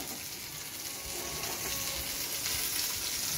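Pieces of fish, including a fish head, frying in hot oil on a stove, a steady close crackling sizzle with faint watery splashes, no voices.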